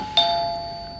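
A doorbell at the front door of a home gives a single clear electronic chime that starts sharply and rings on, fading slowly in a quiet room.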